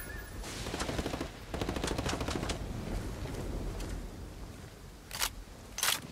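Gunfire in Ghost Recon Wildlands, a long rapid rattle of automatic shots that carries through most of the stretch, then fades and gives way to two isolated sharp bursts near the end, with no talking.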